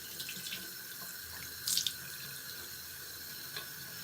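Water running from a bathroom sink tap while someone washes their face, a quiet steady stream with a brief louder splash midway and a few faint drips.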